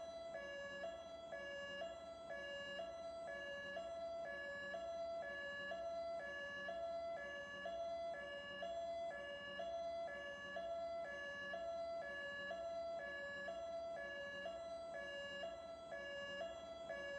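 An ambulance siren from the video game Transport Fever 2 cycles continuously through a repeating wailing tone pattern, even and unbroken for the whole stretch, fairly faint and alone.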